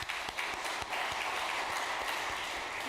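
A church congregation breaks into sustained applause at a meeting, many hands clapping in a dense, steady wash for the full few seconds with no voices over it.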